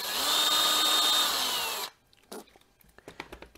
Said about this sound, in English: So now I'm going to take my drill and on an angle here